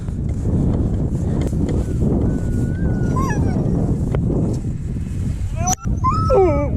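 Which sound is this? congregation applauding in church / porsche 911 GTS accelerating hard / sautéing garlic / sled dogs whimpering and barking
sled dogs whimpering and barking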